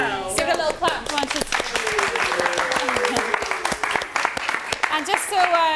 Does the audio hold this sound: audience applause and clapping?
yes